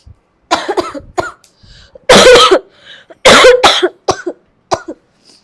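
A woman with chest pain coughs during a doctor's examination, a few soft coughs followed by two loud, harsh bursts and smaller throat-clearing coughs, close and with no talk.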